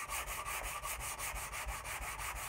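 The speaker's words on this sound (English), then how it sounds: "we're going to sandpaper it again" Sandpaper rubs back and forth on a wooden axe handle in a fast, even rhythm of repeated rasping strokes, close and fairly quiet with no talking.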